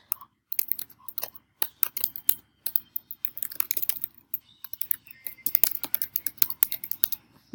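Rapid, irregular clicking of fingers typing on a computer keyboard while text is entered into the Book Creator app. The clatter comes in quick bursts with short pauses and is moderately close.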